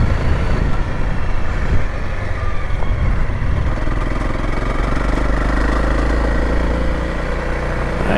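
A Royal Enfield Himalayan and a Honda CRF300L ride Utah backway roads with tight curves, giving a steady, loud engine drone with wind rumble throughout.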